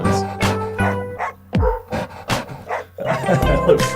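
Dog barking samples cut into a hip-hop track, several sharp bark hits over the beat alongside a bright keyboard lead, with no talking.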